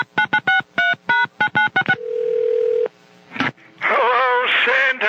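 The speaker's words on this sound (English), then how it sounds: "let's give old Santa Claus a call." A telephone dials out to call Santa Claus: a quick series of touch-tone beeps, then a steady dial tone that cuts off abruptly, followed by a click and a warbly, radio-like voice.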